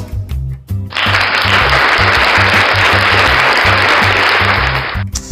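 Applause effect triggered from a V8 sound card: a dense burst of many hands clapping starts abruptly, holds loud and steady for about four seconds, then cuts off over background music.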